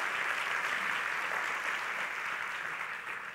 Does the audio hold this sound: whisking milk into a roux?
no